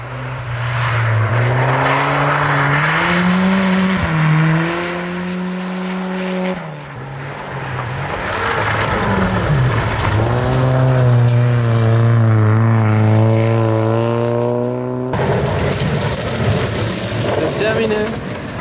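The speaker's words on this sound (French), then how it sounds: "j'ai un petit bruit de collecteur d'échappement" A Subaru Impreza 2.0R engine, running with an exhaust manifold noise, holds a steady loud drone whose pitch rises and falls through several revs over about eighteen seconds.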